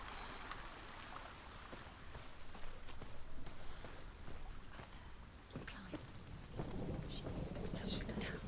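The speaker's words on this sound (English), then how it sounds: "And now it's raining." Steady rain falls in Hellblade: Senua's Sacrifice, a dense, continuous hiss with a low rumble swelling near the end, close and enveloping, with no one talking.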